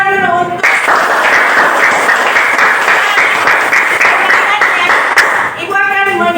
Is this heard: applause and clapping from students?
yes